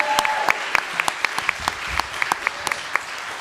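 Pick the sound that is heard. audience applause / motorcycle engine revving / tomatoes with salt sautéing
audience applause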